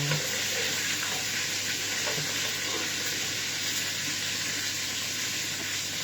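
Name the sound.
onions frying in a pan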